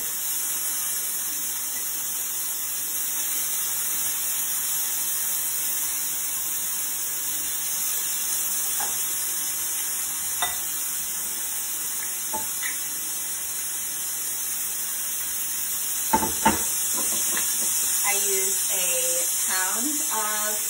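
Sirloin steak stir-frying in hot oil gives a steady, soft sizzling hiss throughout, with a few sharp clinks of utensils against the pan near the end.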